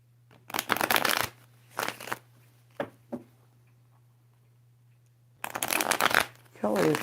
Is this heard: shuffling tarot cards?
yes